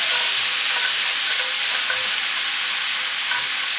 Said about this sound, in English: now I'm going to add some white wine to the pan